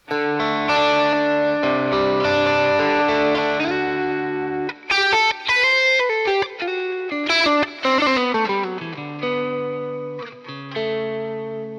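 Electric guitar runs through a HoTone Ampero Stomp effects unit, sustained distorted chords with chorus shimmer, then choppy repeated notes and ringing tails, loud and close.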